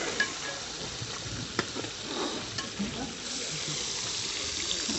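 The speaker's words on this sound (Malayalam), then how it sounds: "മഞ്ഞപ്പൊടി ഇട്ടിട്ടുണ്ട്, നന്നായി ഒന്ന് ഇളക്കി കൊടുക്കുക." A spoon stirs onions and tomatoes frying with turmeric in a pan, a steady close sizzle with scattered scraping clicks and no talk.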